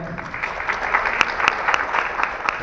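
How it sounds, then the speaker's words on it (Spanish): Audience applause at a compliance event: a moderate crowd claps steadily, with a few sharper individual claps standing out from the wash. "Por favor, un aplauso también para Roberto."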